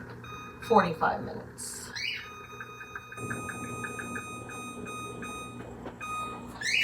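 A kitchen timer being set for 45 minutes gives a quick run of short, faint beeps, with a person talking nearby and a steady low hum in the room.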